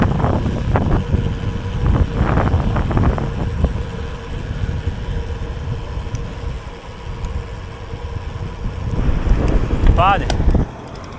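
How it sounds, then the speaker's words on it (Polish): Wind buffets the microphone in a steady roar during a long bicycle ride along a road, loud and continuous, with a voice talking over it. "Ale wieje z północy, z południa raczej."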